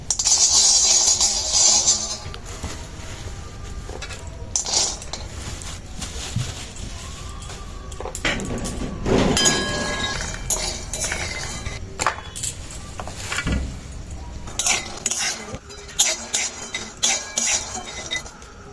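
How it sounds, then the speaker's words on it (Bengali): Peanuts frying in a pan while being stirred for vegetable chops, with steady metallic scraping and clinking of a spatula against the pan, close and fairly loud, with a continuous sizzle underneath. "বাদাম লাগবে, বাদামটা আমি ভেজে নিচ্ছি।"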